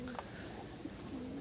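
Pigeons on a cloudy day, soft low cooing calls close by, a few short coos in a quiet setting.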